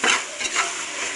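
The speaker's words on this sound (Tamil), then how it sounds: "பிறகு நம்ம தக்காளியை போடலாம். தக்காளி நல்லா வதங்கட்டும்." Tomatoes sauté in a pan for vegetable biryani, heard as a brief close sizzle with a couple of stirring scrapes.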